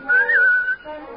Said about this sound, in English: Give a little whistle.